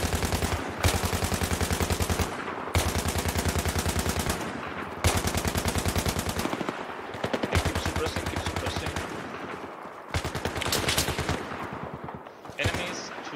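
Machine gun fire in Battlefield 3 with the Project Reality mod, long sustained automatic bursts of rapid shots broken by short pauses, loud and close, with a voice briefly talking.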